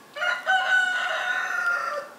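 A rooster crows in a household yard of a mountain village where chickens and goats are kept, one long clear call rising and wavering for about two seconds at moderate distance, with no one speaking.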